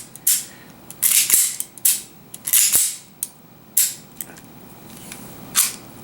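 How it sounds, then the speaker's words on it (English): A Type 94 Nambu pistol is racked and dry-fired during a function test, giving a series of sharp, close metallic clicks and snaps spaced irregularly with quiet gaps between them. "Now drop this mag a little bit so you can rack it."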